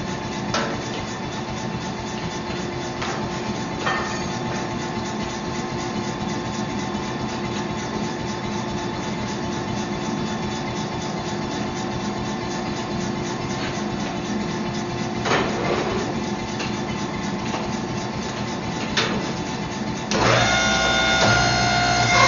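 Power hammer and hydraulic press in a knife forge running together, a steady loud mechanical drone with hum and rattle throughout, a few sharper knocks along the way and a rise in clatter near the end.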